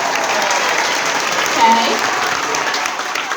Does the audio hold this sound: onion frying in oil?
no